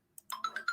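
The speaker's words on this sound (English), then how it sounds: "That's my phone" A Ring security camera sounds its alert on a phone: a short, bright series of four or five quick chime tones in a rising pattern, heard clearly and alone.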